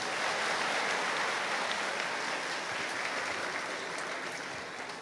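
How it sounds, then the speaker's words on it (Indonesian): A large crowd of students at a high school gathering claps in a thick, continuous roar that holds steady for five seconds and eases slightly at the end. "Tepuk tangan lagi."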